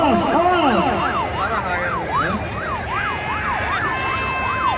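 A wailing ambulance siren at a horse race in Central Aceh sweeps up and down in a repeating cycle, loud and close, over traffic rumble and some shouting in the background.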